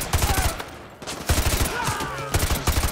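Rapid bursts of automatic gunfire from the Call of Duty: Modern Warfare 2 Remastered campaign, loud and close, fired in repeated volleys with a short pause, while a voice talks over the shooting.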